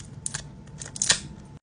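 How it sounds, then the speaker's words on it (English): Plastic wrap peeled off a Don Ramon special release tequila bottle gives a few close, crinkly tearing rustles, with the sharpest crackle near the end. "undress it by peeling off the plastic"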